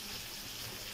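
Onions frying in a pan, a steady soft sizzle with a brief louder crackle at the very end.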